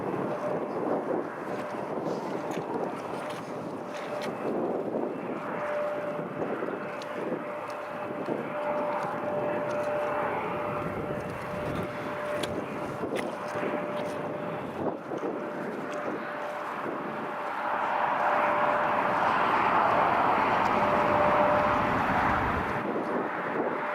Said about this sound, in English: There we go, that's the KLM pushback.